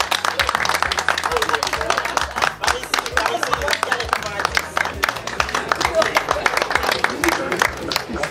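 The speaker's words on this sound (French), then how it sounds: "On applaudit s'il vous plaît." A crowd claps at an outdoor community picnic in Bochum, a lively run of scattered hands with a voice speaking over the applause throughout.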